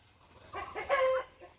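A black hen and other fowl with their chicks cluck in a short, close burst of soft, throaty calls that rise and fade within about a second.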